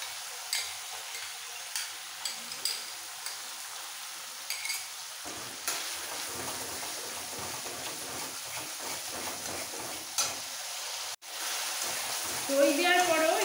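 Mustard-poppy paste with sour curd sautéing in a pan for a katla fish curry, with a soft steady sizzle and scattered clicks of stirring, then a louder hiss near the end.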